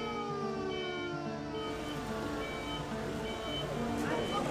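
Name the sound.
ambulance sirens outside hospital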